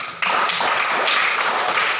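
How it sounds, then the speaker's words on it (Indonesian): A classroom of primary school pupils claps hands in applause, a dense, steady patter of many hands that starts abruptly and continues evenly at close range. "Tepuk tangan dulu."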